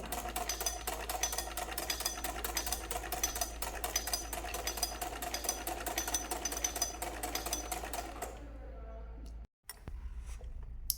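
A sewing machine stitches a sleeve as elastic goes in, running in a steady, fast mechanical chatter for about eight seconds before it stops, then a softer handling sound follows after a brief silence.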